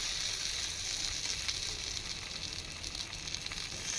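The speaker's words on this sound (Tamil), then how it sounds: "தவாவில் வந்து எண்ணெயை விட்டாச்சு இப்போ நல்லா வந்து ஹீட் ஆயிடுச்சு எண்ணெய் இப்போ நம்ம உருளைக்கிழங்க ஒன்று ஒன்றா வந்துட்டு இதில் வச்சிடலாம்" Potato slices sizzle in hot oil on a tawa, a continuous bright, crackling hiss that stays fairly even and close throughout.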